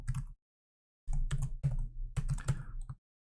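Quick bursts of typing on a computer keyboard, close and crisp, with a short pause after the first keystrokes and then a rapid run of clicks until it stops.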